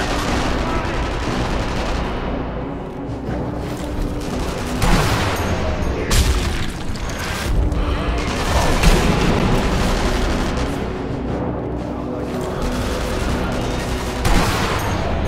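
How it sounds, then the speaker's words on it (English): Gunfire in the video game Sniper Elite V2, scattered shots and booming reports rolling through a loud battle ambience, some bursts near and others more distant, with occasional talk. "I honestly don't know what these guys are shooting at."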